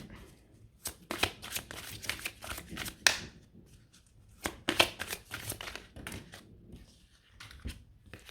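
Oracle cards being shuffled by hand, repeated riffling bursts of papery flutter close to the microphone, with pauses between rounds.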